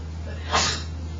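A single short, sharp sneeze bursts out over a quiet classroom hum, brief and fairly close.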